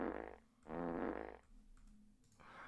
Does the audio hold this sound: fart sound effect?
yes